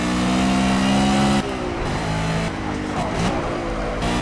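Race car engine in the Project Cars racing game, heard from the cockpit, holding a steady loud drone that drops in pitch and then wavers as the throttle is worked lightly, with tone shifting over several seconds.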